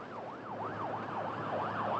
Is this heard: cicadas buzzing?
no